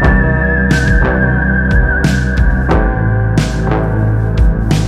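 Whistling in an electropop song, a high steady whistled melody running through the track over a dense, rhythmic backing of beats and synths.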